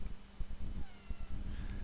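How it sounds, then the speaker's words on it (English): A cartoonish cat meow sound effect plays in a video game, thin and fairly faint above a steady low hum and background noise. "Now expecting the cat noise."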